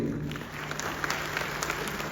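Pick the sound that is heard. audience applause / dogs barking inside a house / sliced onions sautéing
audience applause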